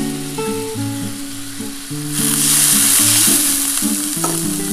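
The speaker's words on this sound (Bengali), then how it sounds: "এবার একটু সামান্য জল দিয়ে দিচ্ছি।" Water poured into a pan of frying spices with salt and turmeric sets off a loud, hissing sizzle midway, rising over background music and continuing strongly to the end.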